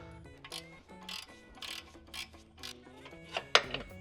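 Under the hood of a Golf GTI Mk5, a ratchet clicks in quick uneven runs while a bolt is backed out, with close metallic ticks and a sharper knock near the end.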